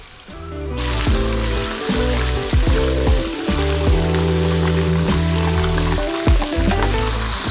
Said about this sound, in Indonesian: Sekarang kita goreng semuanya. Pertama wortel dulu karena wortel paling keras supaya matang dulu.